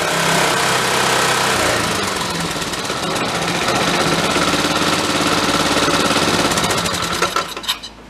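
An engine-powered wagon idles roughly nearby, a dense rattling, knocking mechanical drone that holds steady throughout and breaks up at the end.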